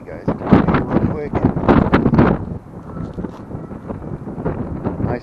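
Wind gusting across a microphone outdoors at a pull-a-part junkyard, rough low rumble and crackling buffets strongest early then settling to a steadier blustery wash, with someone talking through part of it.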